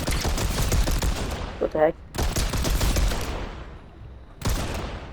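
Mammoth pistol shots in the video game Fortnite fired in quick bursts, several sharp cracks clustered together, broken by short gaps, with a voice briefly speaking between them.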